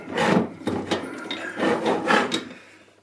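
Wooden bogie on a Brecon Minor model railway wagon swivelling on its pivot, giving a dry wood-on-wood rubbing and scraping in several short close strokes with brief pauses.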